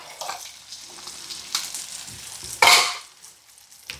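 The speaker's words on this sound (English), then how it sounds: "we're going to let these vegetables soften up and cook down" Carrots, onion and other vegetables sauté in a pot, giving a soft, steady sizzle close by, with a louder burst of frying and stirring near the end.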